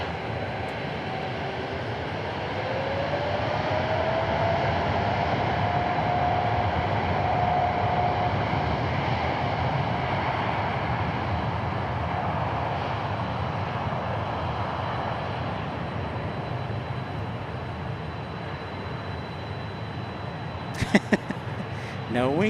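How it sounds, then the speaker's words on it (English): A Boeing 787 Dreamliner bound for Istanbul sends a loud, steady jet engine roar across the airfield at DFW International Airport, holding throughout, with a rising whine early on and people talking over it. "So this is a Dreamliner."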